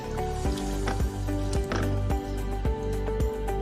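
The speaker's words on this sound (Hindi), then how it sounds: "अब हम इसमें डालेंगे दही और बेसन" Yogurt and gram flour going into a prepared curry masala for Punjabi kadhi pakora, with soft wet squishing and plopping drops at a steady rhythm, close and moderately loud, with no talk.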